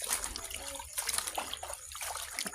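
Water runs and trickles steadily while food is rinsed clean by hand, with soft splashes and irregular dribbles close by throughout.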